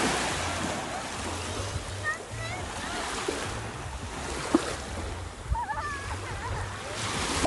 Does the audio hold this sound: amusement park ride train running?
no